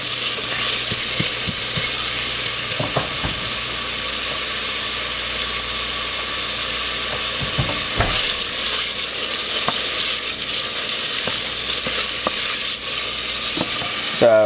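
Onions being caramelized sizzle steadily in a pan with a constant bright hiss and occasional small taps of a utensil, with no talk.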